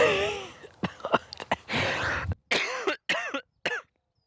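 A string of harsh coughs in quick succession, close and loud, breaking into a short fit before falling silent.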